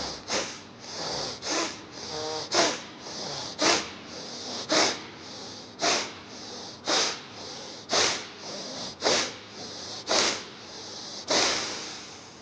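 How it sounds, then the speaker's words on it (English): Forceful Bhastrika pranayama breathing, a steady series of about twenty sharp, snuffling nasal inhales and exhales in a regular rhythm, close and fairly loud with no talking. "There will be a gentle snuffling sound from your nose."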